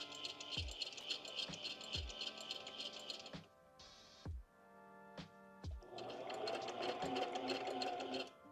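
A sewing machine back stitches pages of a boho junk journal, making close rapid mechanical chatter with a few clunks and short pauses between forward and reverse runs.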